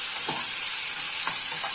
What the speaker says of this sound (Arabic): نقلب كده.